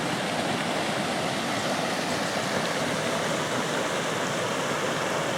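Water pours steadily over the overflow at Lock 15 on the Grand Canal, a continuous close rushing wash that holds even and loud throughout, with no voices.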